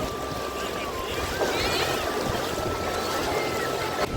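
Ocean waves wash steadily along the sea shore at Udaipur beach near Digha, a continuous broadband surf roar with wind buffeting the microphone throughout.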